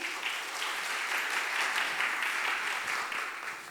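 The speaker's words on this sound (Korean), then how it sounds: "큰 박수로 맞아주시죠" Sustained applause from an audience at a women's health lecture, steady and full for several seconds before tapering slightly at the end.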